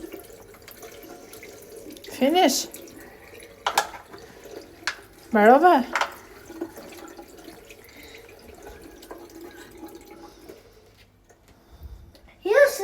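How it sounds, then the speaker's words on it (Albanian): Water runs from a tap into a sink in short, splashy bursts at close range. A child and an adult talk over and between the streams. "Bie poshtë uj, po."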